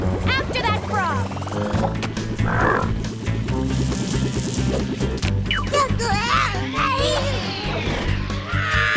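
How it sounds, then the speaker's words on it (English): Cartoon frog croaking in a Strawberry Shortcake Berry Bitty Adventures episode, a steady run of croaks mixed with animated characters talking and background music throughout. "After that frog."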